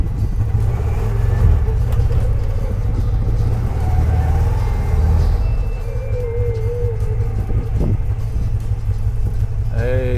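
A car drives up to a driveway gate fitted with a DIY automatic gate opener, its engine rumbling loudly and steadily close by, easing slightly toward the end.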